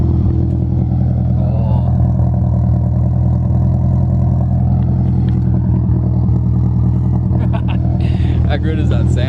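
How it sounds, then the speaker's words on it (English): A Subaru WRX GC8 sits idling with a deep, steady low rumble that stays close and loud throughout, with a brief voice and some clattering near the end. "Let's have a listen to the Subaru rumble."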